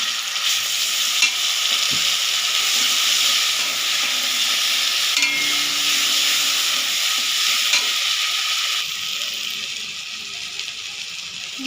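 Ground spice paste with black cumin, turmeric and salt frying in leftover fish oil, a steady close sizzle with stirring scrapes throughout.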